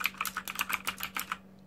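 Rapid typing on a Rantopad MXX backlit mechanical keyboard, a close, crisp run of about a dozen clicky keystrokes that stops abruptly into near silence.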